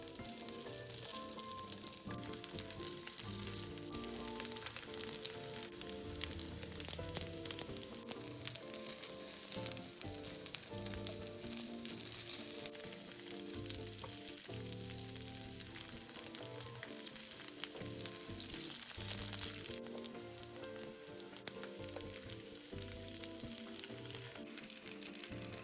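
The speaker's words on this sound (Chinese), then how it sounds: "低火油煎至表面微微焦" Chive cakes pan-fry in a little oil in a nonstick pan over low heat, sizzling steadily and continuously with soft crackles and occasional stirring noises, no talk.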